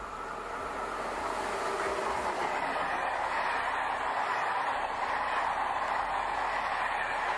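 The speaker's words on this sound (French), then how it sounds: "Attention au passage d'un train." A train passes through a French railway station, a steady loud rumble and rush of rolling stock that builds slightly and holds for several seconds with no speech over it.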